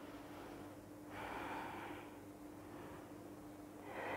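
Steady, rhythmic breathing during a workout exercise, slow inhales and exhales repeating in waves over a constant low hum, moderately close and without talk.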